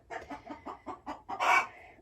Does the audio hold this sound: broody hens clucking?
yes